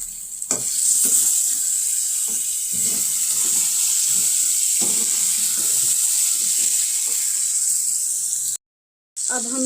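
Chicken sizzling loudly as it fries in a kadai with ginger and garlic, a steady hiss with faint stirring scrapes throughout, ending in a brief sudden dropout.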